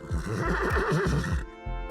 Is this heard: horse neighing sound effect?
yes